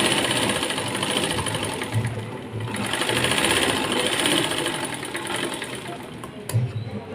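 A sewing machine stitching a blouse lining to the main cloth runs in a fast, continuous mechanical whir close by, with brief slowdowns and a couple of soft thumps, no voices over it.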